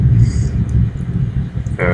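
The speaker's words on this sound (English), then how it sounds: "Very loud thunder." A deep, loud rumble of thunder in Ragnarok Online 2 rolls continuously through the whole stretch, steady and heavy, with a brief brighter crackle near the end.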